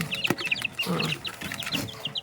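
Many newly hatched Rhode Island Red chicks peep in high, rapid chirps while hens cluck softly beneath, a busy continuous chorus close by, in the Philippines.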